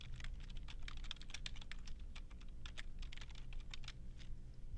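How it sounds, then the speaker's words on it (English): Rapid clicking keystrokes on a computer keyboard come in quick, irregular bursts, close and steady, as a definition is typed into a text box in SMART Notebook. "I'm going to type a definition."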